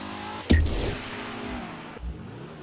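The Emperor ETR1 supercar in Grand Theft Auto is heard revving. There is a sudden loud burst, then a sustained engine tone that slowly falls away, and a second smaller thump near the end.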